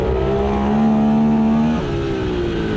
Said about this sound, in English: Roll off the throttle. Try and pick it up early as possible. Get back on the gas.